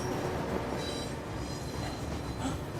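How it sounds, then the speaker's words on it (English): A train rolling past, heard as a steady, loud rumble with wheel noise and faint high squeals throughout, no voices. "It's a train."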